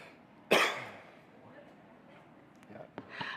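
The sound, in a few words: person coughing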